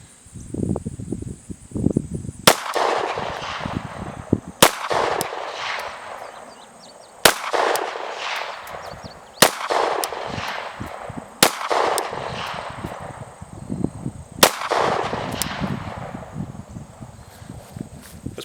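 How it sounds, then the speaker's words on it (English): Six sharp handgun shots fired one-handed with the support hand ring out at an outdoor range, spaced about two seconds apart, each loud crack trailing into a decaying echo over light rustling and background noise. "use your support hand by itself to fire accurate shots on target"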